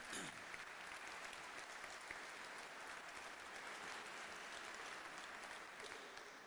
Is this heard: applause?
yes